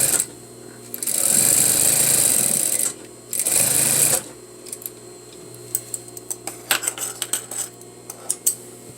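A sewing machine stitches a half inch seam on a facing, running in two loud, steady bursts with a short pause between them, followed by scattered clicks and taps as the fabric is handled.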